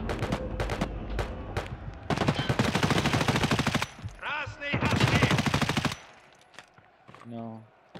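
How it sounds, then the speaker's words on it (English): Video game gunfire: sharp single shots at first, then long loud automatic bursts in two sustained stretches, with brief game sounds between and a quieter tail at the end; close and dominant. "Oh, I just shot my friend."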